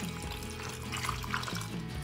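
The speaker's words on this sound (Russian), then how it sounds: "Сверху рыбу заливаем рассолом." Brine pours over cut pieces of thawed mackerel in a multicooker bowl, a continuous close trickle and splash with faint knocks, with no talk.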